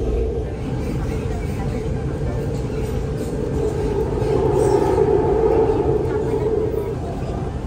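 Taipei MRT train running, a steady loud rumble with rail hum throughout, swelling slightly midway, with faint voices in the carriage.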